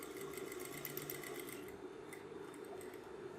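An electric sewing machine runs steadily as it stitches the corner piping on a Rajputi kurti, a close continuous whir that eases slightly partway through, with no voices.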